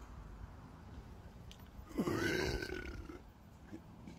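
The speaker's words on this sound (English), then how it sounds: "Oh, that was a good burp. That was a belch." A single low, rough burp rises abruptly partway through an otherwise quiet stretch, lasting about a second before fading.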